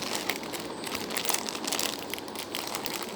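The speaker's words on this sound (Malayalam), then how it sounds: "നമ്മൾ ലേസ് പൊട്ടിക്കുകയാണ്." A packet of spicy Lay's potato chips is pulled and torn open, giving a steady, close, papery crinkling for a few seconds with no talking.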